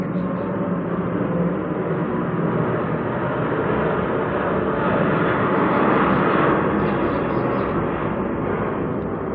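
Airplane passing overhead, a loud continuous broadband engine roar holding steady for several seconds with no break and no voices.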